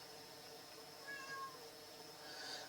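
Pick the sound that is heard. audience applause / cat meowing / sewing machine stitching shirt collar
cat meowing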